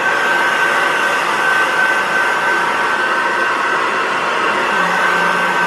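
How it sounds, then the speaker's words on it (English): A handheld hair dryer blows loudly and steadily close by while drying locs, a constant airy whir with a thin whine riding on top, unbroken for several seconds. "Let me just blow dry."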